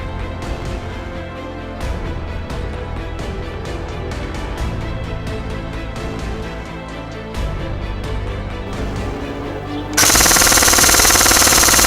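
An LCT airsoft AK rifle fires on full auto in rapid sustained bursts, close and loud, with a brief pause near the start and a sharp rise in level toward the end; no talking.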